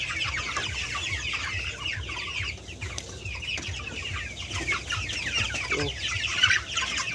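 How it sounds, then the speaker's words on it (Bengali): Poultry chickens cluck and chirp continuously inside a farm shed, many birds at once at close range with steady layered calls and no speech. "ভালো করে আমার মুরগিগুলো দেখে নিন।"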